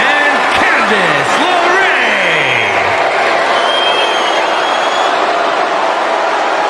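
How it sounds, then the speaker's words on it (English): A wrestling crowd at a tag team championship match, with loud sustained cheering and booing filling the arena, plus whistles and a few pitched calls rising above the roar. "I'm hearing some cheers and I'm hearing some boos"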